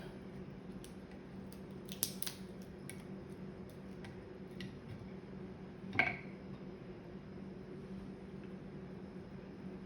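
Kitchen scissors snip a crab shell down the middle, a few faint crisp clicks and one sharper cut standing out over a quiet steady background hum, no talk.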